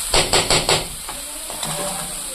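Mushrooms frying in oil in a pan, a steady sizzle with three loud bursts of crackling near the start before settling to a quieter, continuous fry.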